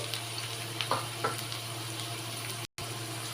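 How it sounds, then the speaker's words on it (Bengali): Potatoes frying in oil for a vegetarian mung dal dish, giving a steady low sizzle with a few brief crackles and one short dropout, close and alone without talk. "এখানে আলুটা আমি লাল লাল করে ভেজে নিচ্ছি"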